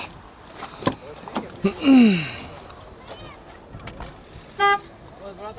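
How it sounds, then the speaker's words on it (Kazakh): A Ford Focus hatchback's horn gives a couple of short honks, one sharp clear blast near the end, among clunks and handling noises close by at a car market. "Сигнал иштейт."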